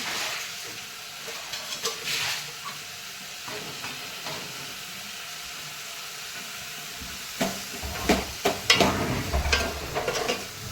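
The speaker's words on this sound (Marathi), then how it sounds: "बघा गोबी आता चांगली तेलामध्ये परतळत आहे" Cauliflower florets fry in oil in a pan, giving a steady close sizzle with occasional stirring scrapes that grow louder and busier toward the end, without any talk.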